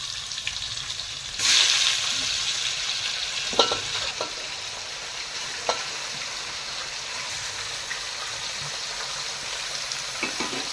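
Marinated food for a Kokan-style Gatari thali hits hot oil in a pan with onion tempering, a loud burst of sizzle that settles into steady frying hiss with occasional scrapes of stirring, no talk.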